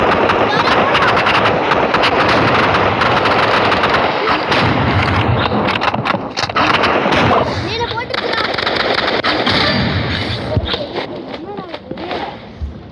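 Rapid gunfire rattles through a round of the Roblox shooter game Rivals, loud bursts and repeated shots that run almost nonstop, while players talk over the shooting.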